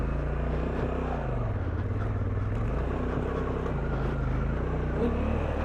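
Honda Africa Twin motorcycle (2024) revving hard off-road as the rear wheel digs a trench, a steady loud engine drone with shifting pitch throughout, close and continuous.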